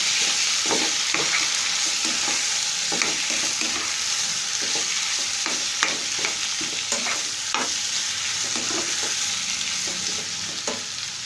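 Chopped vegetables for a Bangladeshi Chinese-style shahi vegetable dish sizzle steadily in a hot pan while being stirred, with a continuous frying hiss and repeated scraping strokes close by throughout.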